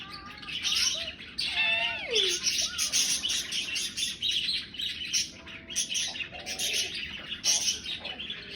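Pet birds indoors chirp and tweet continuously and fairly loudly, with overlapping high twittering, a few rising whistled calls and a softer cooing note, while a television plays in the background.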